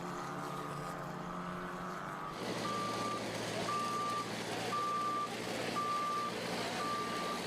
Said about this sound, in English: Never a good sign to hear the beeping of a JCB going backwards in a gravel trap